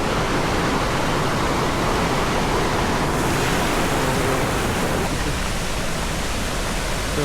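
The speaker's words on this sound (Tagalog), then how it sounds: "Ito yung falls." Casaroro Falls, a tall waterfall, roars in a loud, steady broadband rush that fills the whole stretch without pause, close and constant with no voices over it.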